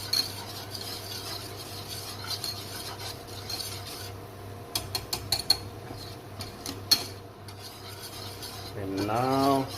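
Roux for a white sauce being stirred in a pan, heard as a steady scraping and rubbing with irregular clicks of the utensil against the pan, alone at moderate level.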